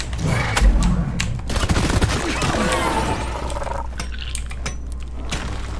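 Gunshots in a Path of Exile fight, sharp cracking shots and shattering impacts in quick bursts over a low hum, busiest in the first half before thinning out into scattered hits.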